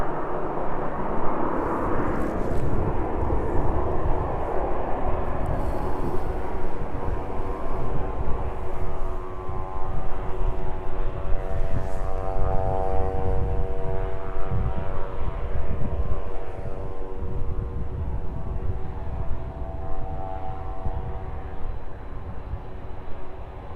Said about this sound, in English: Quite some noise coming from 737 as well.